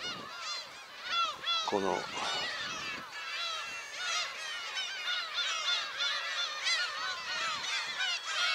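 Slaty-backed gulls call loudly and repeatedly in a seabird colony on Teuri Island, Hokkaido, with many overlapping squealing cries throughout and someone briefly speaking near the start.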